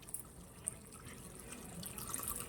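Water trickles steadily into a cooking pot on a home stove, a faint continuous splashing pour heard alone with no voices.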